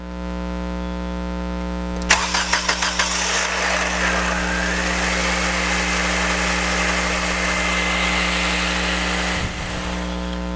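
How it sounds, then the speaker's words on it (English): A Nissan 1.6L engine cranks and fires, giving a short burst of rattling timing chain clatter at startup before settling into a steady, quiet idle. "you'll notice there was a little bit of clatter just in the beginning, and now it sounds nice and quiet"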